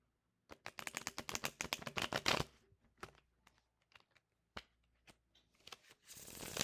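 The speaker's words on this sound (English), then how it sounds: "Let me pull a few more cards after I shuffle the deck." Tarot deck shuffled by hand in rapid, papery riffles and flutters, a dense burst of card slaps followed by scattered taps and a final swell of shuffling.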